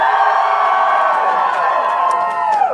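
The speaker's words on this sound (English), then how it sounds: "And then a loud cheer from team" A team of game-show audience members cheering together: a sustained, loud mix of voices whooping and hollering that tails off toward the end.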